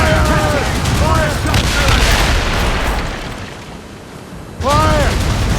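Naval cannons fire during a ship battle in Assassin's Creed Rogue, with heavy booming blasts near the start and another loud volley near the end, while crew members shout orders over the gunfire.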